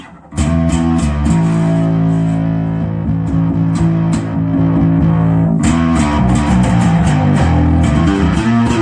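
A bass guitar plays a driving line through heavy distortion on an Ashdown ABM600 rack-mount bass amp, gritty and loud, with a brief pause before the riff resumes.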